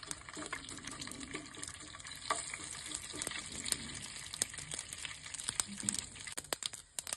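Mustard seeds begin to splutter in hot oil for a Kerala erissery curry, faint scattered pops and crackles over a soft frying hiss with light clinks, fairly quiet and without speech.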